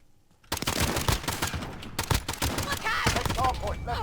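Rapid pistol gunfire from an M19 in Call of Duty Modern Warfare, a dense burst of sharp shots after a brief quiet start, loud and close, with game sounds layered in.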